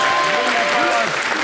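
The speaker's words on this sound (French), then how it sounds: "Applaudissez, encouragez-nous aussi." Studio audience applause on a French-language television variety show, a dense burst of clapping heard at close range for under two seconds, with a voice speaking over it.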